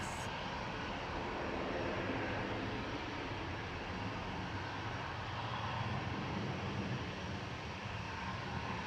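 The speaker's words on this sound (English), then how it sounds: "EasyJet's GZWR lining up to go next. Flight 2193 to Zurich, A320 Classic." EasyJet Airbus A320 Classic airliner lining up for departure at Manchester Airport: a steady, broad jet-engine roar heard from a distance, constant and fairly faint throughout.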